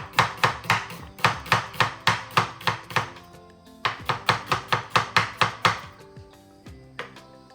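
Peeled onions are chopped with a knife on a board in a home kitchen, a run of about twenty crisp, evenly paced strikes that pause briefly and then resume, ending with a few slower scattered cuts.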